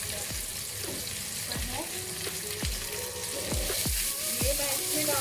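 Chilies and white onions frying in a pan, a steady close sizzle and hiss with repeated soft scraping strokes of stirring at a regular pace.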